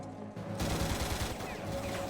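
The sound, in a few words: gunfire in Stargate SG-1 episode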